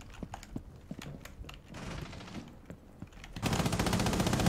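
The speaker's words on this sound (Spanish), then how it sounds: "¿quién coño me está disparando?" Gunfire in Rainbow Six Siege deathmatch: scattered sharp single shots come first, then a dense sustained burst of rapid automatic fire takes over and stays loud to the end.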